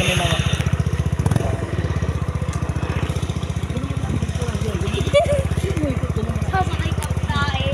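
A motorcycle engine runs steadily and loudly up close, with a continuous throbbing drone and a brief rev about a second in, while voices murmur faintly underneath.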